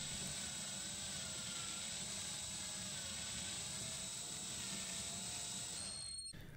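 A Hyper Tough installation driver runs steadily at its lowest speed, giving a continuous high mechanical whine with a rattly, ratchet-like buzz underneath, loud and close, then cutting off abruptly near the end.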